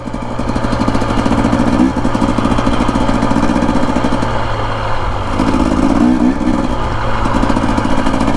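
A 2025 Husqvarna TE250 dirt bike engine running steadily while riding desert trails, a loud, close, buzzing two-stroke drone with slight rises and dips in pitch and throttle throughout.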